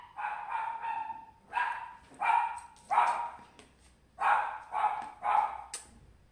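A dog barking in a rhythmic series of about eight sharp, mid-distance barks, some grouped in quick pairs, with short pauses between and no talk over them.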